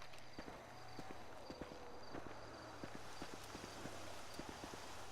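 Distant footsteps in the GTA video game, a steady run of faint, crisp hard-surface steps under a low background hum, with no talk.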